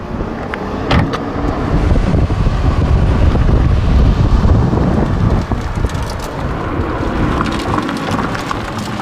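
A car started with a key and left running, a loud broadband rumble that fills the clip steadily, with brief clicks and knocks near the start and no talking.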